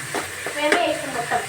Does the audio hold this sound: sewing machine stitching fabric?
no